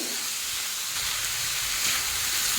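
Chana dal frying in oil in a pan with bay leaf: a continuous close sizzle and hiss, steady and moderately loud, with a faint bubbling undertone and no voices.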